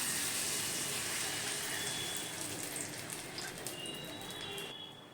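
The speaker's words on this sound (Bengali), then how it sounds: "এবারে আমরা এর মধ্যে গ্রেভির জন্য দিয়ে দেব প্রায় 1 গ্লাস পরিমাণ গরম জল" About a glass of hot water poured into a simmering palong shak (spinach) gravy, a steady close hiss of pouring liquid that holds for several seconds without any talking.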